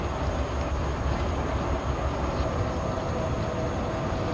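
A train rumbles past along a river lined with vineyards, a steady broadband roar with faint rail clatter, constant and fairly close throughout.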